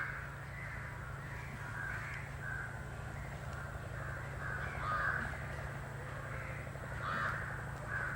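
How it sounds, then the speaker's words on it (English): Crows caw outdoors in a repeated series of harsh calls, some nearer and louder, set over a steady low background hum, with no voices. "Those crows having fun."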